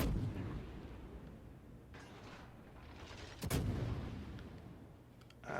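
Main guns of the Smolensk cruiser in World of Warships firing in sharp, cracking reports, one loud salvo standing out among fainter shots over a low rumbling background.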